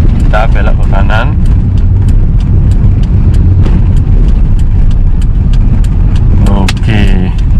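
An automatic car driving steadily after being shifted into second gear, giving a continuous loud engine and road rumble, with someone talking over it at the start and again near the end.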